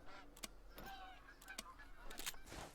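Geese honk repeatedly in the hunting video game Call of the Wild, a series of sharp nasal calls spread over a steady outdoor ambience, moderately distant and fairly faint.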